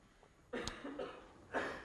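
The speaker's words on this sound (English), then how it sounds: "You're coughing." Two soft coughs, faint and a little distant, about a second apart, in a quiet room.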